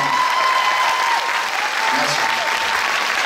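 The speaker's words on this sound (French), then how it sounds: "si ça vous a plu, on peut l'applaudir" Loud, sustained applause from a large cinema audience at a film screening event, dense clapping filling the room, with a few faint tonal sounds mixed in.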